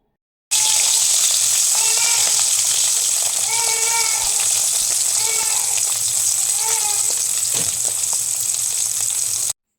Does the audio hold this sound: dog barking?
no